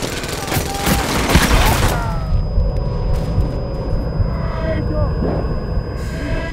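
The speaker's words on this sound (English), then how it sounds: "Dorian, get moving and get Santa some goddamn cover fire!" Gunfire in a battle from the Brothers in Arms: Hell's Highway video game, dense loud bursts of shots and rumble up front that ease into a continuous roar of combat with a shouting voice over it.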